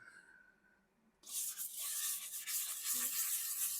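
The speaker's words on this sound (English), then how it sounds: "So the theory behind doing this with sandpaper is that it does sand some of the wood off" Hand sanding of wood with sandpaper: a quiet stretch gives way to loud, steady, hissing scratchy rubbing that continues without pause to the end.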